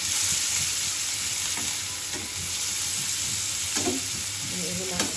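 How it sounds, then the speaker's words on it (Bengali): Dried chilies and onions sizzle steadily in a pan, with a constant hiss of frying oil and occasional scrapes of stirring, close and continuous with no talking. "আর শুকনা মরিচ ভেজে নিব"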